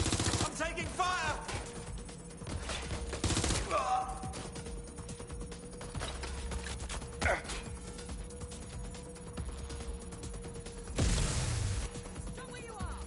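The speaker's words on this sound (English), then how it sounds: "Stop where you are. Shots fired." Gunfire breaks out in the video game Watch Dogs Legion as several loud bursts of shots with mechanical clatter between them, over a steady background hum, with voices in the mix.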